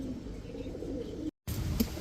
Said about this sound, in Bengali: মাত্র 1200 টাকা এক জোড়া রানিং হ্যামার কবুতর